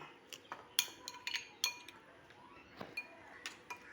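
A spoon clinking against a bowl while sandwich filling for crispy bread sandwiches is mixed, scattered light metallic clinks and taps at an uneven rhythm, close and fairly quiet.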